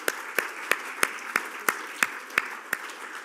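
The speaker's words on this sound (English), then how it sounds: "A round of applause" A small audience at a desert wildlife center coyote talk applauds sponsors with slow, evenly spaced claps, about nine distinct hand claps at a steady beat, fairly close and moderately loud.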